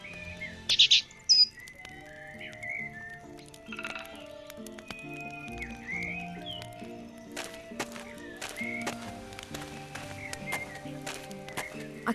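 Cheep Cheep, the small bird in the adventure game The Book of Unwritten Tales, chirps a few quick high notes at the start, then falls quiet as soft game music and ambience carry on.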